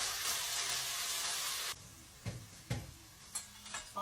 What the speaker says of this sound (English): let's just fry it up